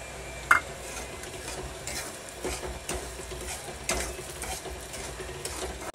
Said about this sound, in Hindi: तो साथ साथ भी भून सकते हो आप सूजी और घी को मिक्स करके।